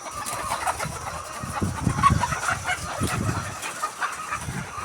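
About 5,000 chickens in a poultry shed cluck and murmur together at a moderate distance, a continuous busy chorus with a low mechanical hum underneath.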